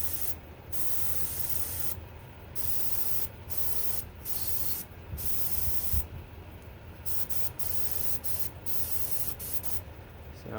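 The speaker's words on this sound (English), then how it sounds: "because this is a single action airbrush, you don't have to worry about the flow rate or anything" A single action airbrush spraying Alclad or Duralumen chrome paint gives repeated close hissing bursts of a second or so each, separated by brief pauses, over steady background noise.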